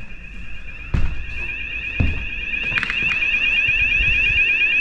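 Luminite ALERTEX wireless lockdown alert unit sounding its alarm in a demo room: a steady, loud high-pitched electronic tone that continues throughout, with a few thuds and knocks underneath.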